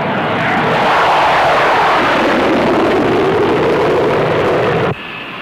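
Grumman A-6 Intruder military jet flying, a loud sustained roar of jet engine noise that stays steady for about five seconds before dropping off sharply near the end.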